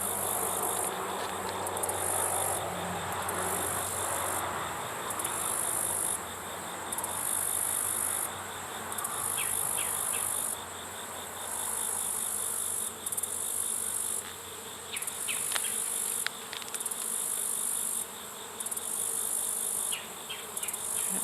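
Honey bees buzzing around an open hive during an inspection, a dense continuous swarm drone close to the microphone that rises and falls steadily, with no talking.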